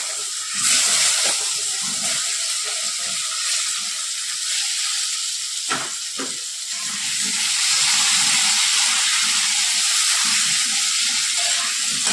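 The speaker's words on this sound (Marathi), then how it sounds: "त्यानंतर आपण यात जे कट करून बटाटे घेतले ते घालतो" Cut potatoes dropped into hot oil with fried cumin and coriander powder for a masala potato and okra fry, a sustained loud sizzling hiss with a brief clatter midway, close up and without talk.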